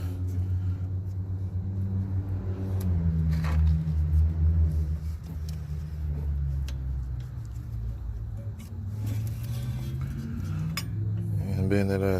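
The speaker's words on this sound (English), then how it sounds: "Take my little brake caliper holder loose." Work on a brake caliper holder on a 2009 Pontiac G6, with close metallic clinks and scraping from tools on brake parts over a steady low mechanical hum, a few sharper taps standing out.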